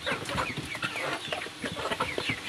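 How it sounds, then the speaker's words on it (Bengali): Sonali chickens crowd into their coop at feeding time, a busy, close chorus of overlapping clucks and clipped calls that keeps going without a break, with no talk. "সমস্ত মুরগি চলে আসছে।"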